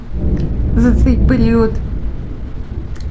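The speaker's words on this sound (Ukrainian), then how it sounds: "Це грім." Low, steady thunder rumbles beneath someone talking indoors during a summer day at home, continuous throughout the stretch and partly masked by her voice.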